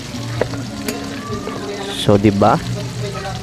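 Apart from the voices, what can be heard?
sautéing aromatics in a pan for bagoong alamang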